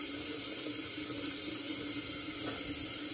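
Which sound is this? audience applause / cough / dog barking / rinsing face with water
rinsing face with water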